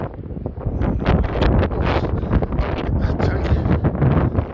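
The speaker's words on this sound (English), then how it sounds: "it isn't half windy." Strong gusty wind buffets the microphone on a town street in Blackpool, a loud, continuous roaring rush with rustling bursts, and a voice briefly talks underneath it.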